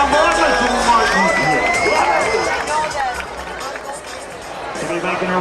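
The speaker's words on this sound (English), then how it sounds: "How about a nice round of applause for Hillsburg Cowboy, Mr. Martin?" A crowd at the Willits Frontier Days rodeo claps and cheers for a cowboy, a broad wash of noisy applause and shouts from the stands, loud at first and easing slightly toward the end.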